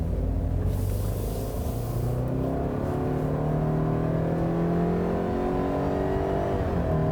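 A 2017 Subaru Impreza 2.0i Limited accelerates, its engine droning steadily up through the revs with a low rumble and rising harmonics, close and constant.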